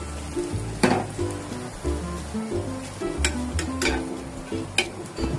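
Fried pointed gourd added to a pan of frying onions, soft sizzling with scraping stirs and occasional sharp clinks of a utensil against the pan, steady and close.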